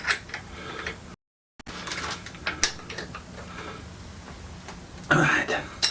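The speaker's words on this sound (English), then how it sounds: "Top nut first, both sides, and then the pinch bolts." Spanner work on a Norton Commando's front fork, tightening the top nuts and then the pinch bolts: faint scattered metallic clicks and ratcheting taps with a louder clatter near the end, amid talk.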